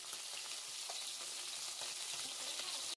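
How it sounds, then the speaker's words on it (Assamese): Mixed fish, including bhangon and rohu, frying in a pan while rice boils nearby: a steady, dense sizzle and crackle with scattered pops, close and even throughout, no talking. "মাছখিনি ভাজি বহাই দিলোঁ"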